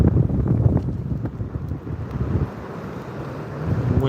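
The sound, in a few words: wind picking up on Florida beach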